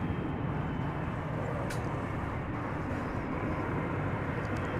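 An American Eagle regional plane arrives at DFW Airport, its engine a steady broadband roar heard from a distance, continuous and even throughout, with no voices.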